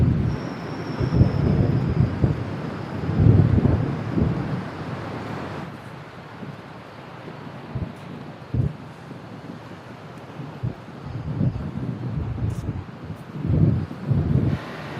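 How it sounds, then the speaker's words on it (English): Strong coastal wind batters the microphone in rough gusts while surf rumbles underneath on a shoreline fishing spot, loud and uneven throughout. "the wind just blew all our rods and the bag and everything over that way"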